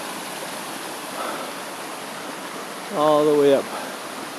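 Continuous soft rush of creek water flowing through a wooded hillside in San Pedro Valley Park, an even hiss throughout, with someone talking briefly near the end.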